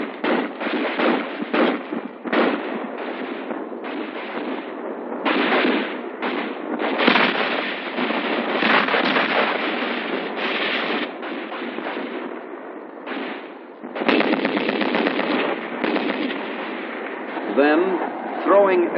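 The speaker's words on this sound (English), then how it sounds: "The enemy is now within range of small arms fire." Small arms fire crackles through a 1956 US Army 25th Infantry Division combat exercise at Schofield Barracks, Hawaii, with dense rapid bursts and popping shots running almost continuously at steady loudness, mixed with a narrator's voice.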